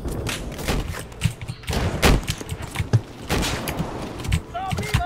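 Battlefield 4 gunfire crackles in repeated bursts and scattered single shots, with heavy thuds mixed in, while players talk over the battle.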